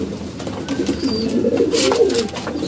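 Domestic pigeons coo in a steady, low, rolling murmur, several birds overlapping close by, with a brief airy rustle partway through and no voices.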